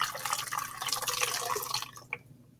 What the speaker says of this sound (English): you're going to pour the colder water, the cool water, into the other 2-liter bottle